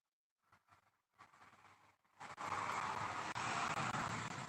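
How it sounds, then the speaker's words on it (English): A loud car roars past outdoors, starting after a few brief quieter sounds and swelling into a sustained, broad rush of engine and road noise that holds to the end. "Loud car."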